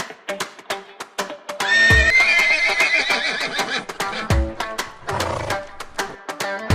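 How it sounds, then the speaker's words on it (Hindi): A cartoon horse neighs loudly in a long, shrill whinny over a busy animated soundtrack, with rapid clip-clop hoof beats, clattering effects and a second shorter whinny following close by. "गुल्ली ने तो सॉन को घोड़ा बना दिया।"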